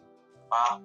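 A frog in a video game's 1.19 update gives a single short, throaty croak, close and clear over a soft steady background hum.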